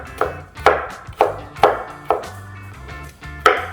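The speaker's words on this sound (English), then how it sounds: "let's go ahead and give them a little cross cut here" Knife chopping onions with a cross cut on a cutting board while cooking, seven sharp, evenly spaced chops ringing close and loud with brief gaps between them, no talking.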